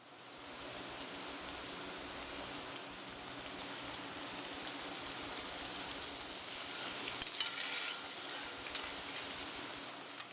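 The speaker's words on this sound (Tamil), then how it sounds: "இப்போ இந்த எண்ணெய் சூடாயிடுத்து இப்போ நான் ஒன்று ஒன்றா போட்டு காமிக்கிறேன்" Thattai dough dropped one at a time into hot oil and frying, a steady close crackling sizzle with a few sharper pops and spatters partway through, no one speaking.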